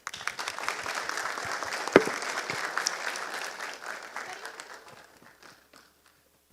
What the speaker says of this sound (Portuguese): recebemos também com aquela calorosa salva de palmas o profissional